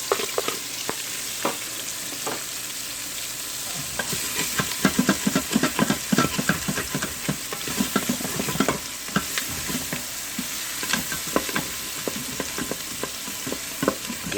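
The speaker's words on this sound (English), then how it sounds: "I'm going to add the onion now" Chopped onion sizzling in a hot Instant Pot while a spoon scrapes and stirs, with a steady frying hiss and repeated close, sharp utensil knocks against the pot.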